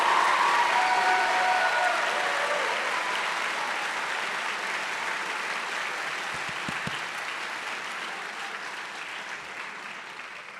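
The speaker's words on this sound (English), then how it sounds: "Let's give them all a big, big round of applause." Graduation ceremony audience applauding at a high school, a sustained dense wash of clapping from a large crowd that slowly fades over about ten seconds.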